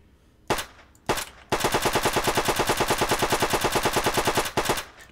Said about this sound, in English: the way you can almost semi-auto fire these weapons, and the Sten Mark II, which again looks pretty damn good.